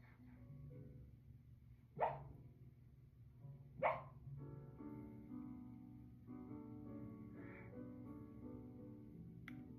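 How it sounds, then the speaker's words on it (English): A sleeping dog gives two short, sharp bark-like yelps about two seconds apart while dreaming, then softer muffled whimpers, over a steady low background hum indoors. "My dog is dreaming."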